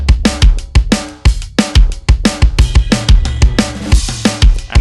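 A programmed pop punk drum beat from an Ableton Live 32 pad kit plays alone: punchy kick and snare hits drive a fast, steady groove with bright cymbal crashes and hi-hats, close and loud.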